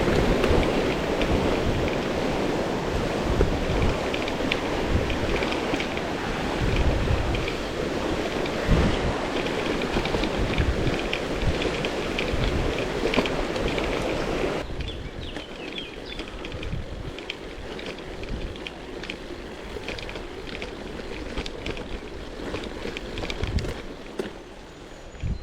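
Heavy pouring rain with gusting wind drums steadily on a gravel bike ride between Chartres and Notre-Dame-de-Bellecombe, a loud dense roar that drops to a softer, thinner downpour about halfway through, with no talking.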